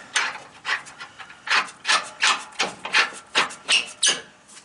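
The upper rear shock nut on a 2006 Nissan Titan is tightened, making about ten rhythmic, close rasping strokes in an even back-and-forth pattern.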